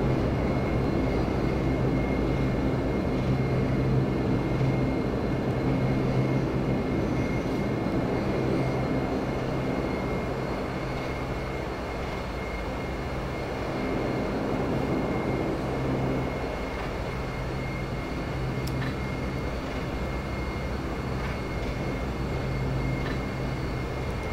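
A Dash 8 Q400 turboprop airliner takes off in a flight simulator, a steady loud engine and propeller roar with a constant hum that holds throughout, no speech over it.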